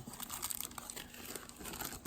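A little plastic bag crinkles and rustles continuously as it is handled during an unboxing, close and fairly loud, with sharp irregular crackles.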